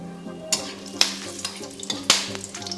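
Bay leaves, dried red chillies and whole garam masala fry in hot oil in a wok, sizzling softly with several crisp clicks of a stirring utensil.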